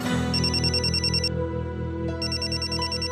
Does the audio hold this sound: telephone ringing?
yes